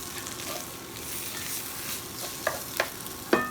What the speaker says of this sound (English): It's time to add our milk.